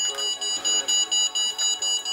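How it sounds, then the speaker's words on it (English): Rapid, regular high-pitched electronic beeps from the locator alarm of an MJX Bugs 8 quadcopter, about eight in two seconds, loud and close with no other sound. "this constant beeping will help you find the quad wherever you lose it"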